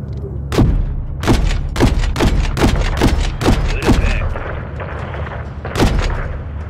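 Heavy gunfire in Call of Duty Modern Warfare III: a string of loud, separate booming shots spaced roughly half a second apart, a pause, then one more blast, each with a sharp attack and rumbling tail.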